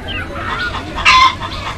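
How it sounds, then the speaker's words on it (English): A hen clucking in a short, close burst, with a louder squawk-like peak near the middle; the sound stands alone with no talk. "H for hen"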